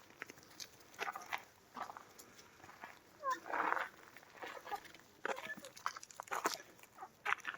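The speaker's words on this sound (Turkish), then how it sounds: "Bu küçük olan horoz galiba" A small rooster and hens cluck in scattered short bursts around a coop after days of rain, faint and intermittent, with a person talking among them.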